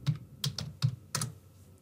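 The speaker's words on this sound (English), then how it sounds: "I'm going to type pabbly.com" Typing on a computer keyboard: about five quick, light keystrokes in an irregular rhythm, close by and fairly quiet, with no voices.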